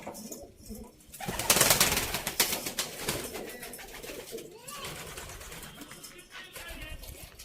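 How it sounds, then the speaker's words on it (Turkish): Pigeons coo on a farm, with wing flaps and a burst of fluttering early on, plus scattered background noise. "Bakın çocuklar burada güvercinler var, kuşlar var"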